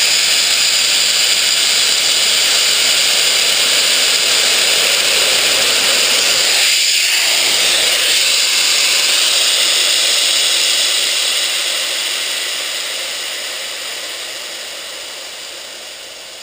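Air rushes loudly and steadily out of the bleed-off valve on a Harbor Freight 6-gallon, 150 psi, 1.5 hp oilless pancake compressor as the full tank drains. The broadband hiss fades gradually toward the end.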